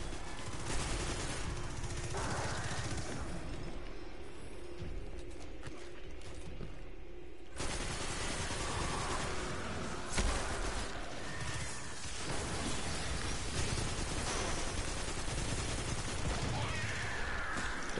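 Rapid automatic gunfire from the Destiny 2 Shadowkeep shooter game, dense bursts and mechanical clatter running nearly nonstop and loud, with game effects layered over it.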